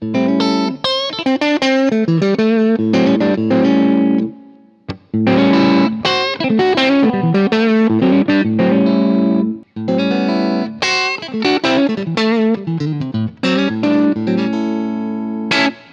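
A Strandberg Boden Essential electric guitar plays chords and short melodic runs with effects in coil-split pickup positions, loud and close, in several brief passages separated by short gaps.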